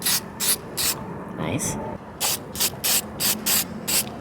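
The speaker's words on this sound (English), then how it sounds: "so we'll just spray paint over that" An aerosol spray paint can sprays in repeated short bursts over rusting spots on an R32 Skyline, about eight brief hisses with pauses between them, close and loud, with a quick spoken word in the middle.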